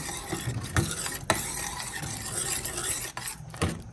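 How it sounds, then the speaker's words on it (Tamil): Steady scraping and swishing of a spoon stirring thick vermicelli and sago payasam in a pot, with occasional soft clinks against the metal rim. "இப்போ இது ரெண்டையும் நல்லா மிக்ஸ் பண்ணி விட்டுக்கலாம்"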